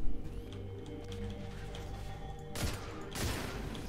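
Sniper rifle shots in the video game Destiny 2, two sharp broadband cracks close together near the end over a steady low game soundscape.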